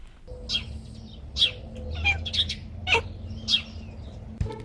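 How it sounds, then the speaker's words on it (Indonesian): A domestic cat chirping, making a string of short, high, bird-like trills and chirps spaced about every half second, close and fairly quiet in a calm room. "kucing kadang bisa berkicau seperti ini"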